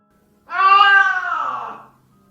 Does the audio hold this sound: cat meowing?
yes